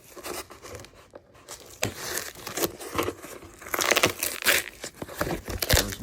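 Cardboard box with packaging being pried open by hand, giving repeated crinkling, tearing and crunching bursts at close range with no talking.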